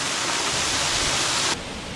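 A waterfall in Clifty Canyon in Alabama's Sipsey Wilderness roars as a dense, even wash of falling water that cuts off abruptly partway through.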